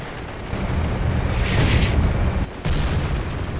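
Gunfire and artillery explosions in a virtual military simulation: a continuous, dense rumble of booms and firing that stays loud throughout, with a brief dip partway through before it resumes.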